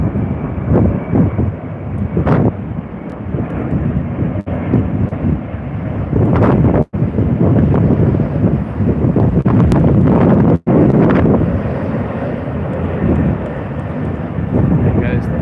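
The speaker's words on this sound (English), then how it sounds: "There goes the Finnair A330." A Finnair Airbus A330 passes with a continuous engine rumble, heavily buffeted by wind on the microphone, with a few sharp dropouts and people talking over it.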